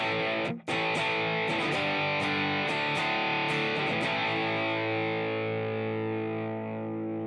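Heavily distorted electric guitar through a JRC-based overdrive pedal into a distortion pedal, holding a sustained, saturated chord after a brief dropout, loud and buzzy, slowly fading toward the end.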